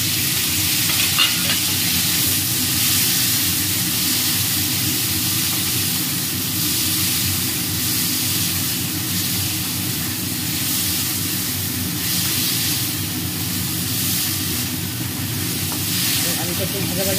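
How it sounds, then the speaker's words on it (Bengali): Chopped potatoes fry in a little oil in a pan, a continuous close hissing sizzle with intermittent stirring scrapes throughout. "এবার এর মধ্যে যে কুচিয়ে রাখা আলুটা, সেইটা আমি ভাজা ভাজা করে নেব"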